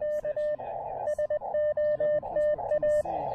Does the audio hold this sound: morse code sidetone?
yes